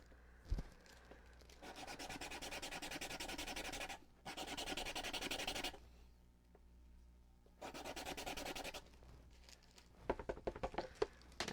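A pink colored pencil burnishes paper in close, quiet strokes: several sustained rubbing passes of a few seconds each, separated by short pauses, and a run of quick light taps near the end.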